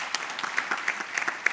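Brief applause from a theatre audience at an evening performance, a scattered patter of clapping hands at moderate volume with no voices over it.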